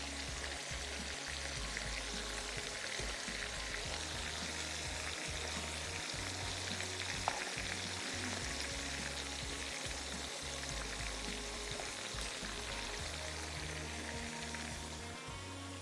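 Masala for achari kofta and potatoes fries in a pan with a steady, dense sizzle that crackles evenly and close-up for the whole stretch, without any voices.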